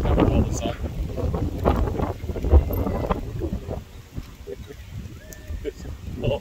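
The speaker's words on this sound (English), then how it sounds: "the wind just picked up all of a sudden" Strong wind buffets a phone microphone outdoors in heavy low gusts that rise and fall, with people talking under the rumble.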